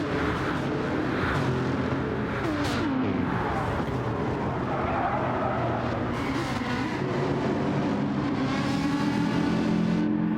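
Racing car engine in Gran Turismo 7 on the Trial Mountain circuit during a four-lap daily online race, roaring steadily and loudly with shifting revs as the car accelerates and other cars run close by.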